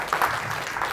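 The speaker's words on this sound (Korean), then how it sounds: "일단 박수 한번 주시고요" Audience applause at a fathers' parenting talk concert, given for a father of three: a brief burst of dense clapping from a crowd indoors, steady and fairly loud for about a second.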